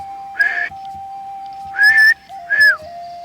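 A person whistles three short, rising and falling notes in bursts, close and fairly loud, over a steady faint tone in the background.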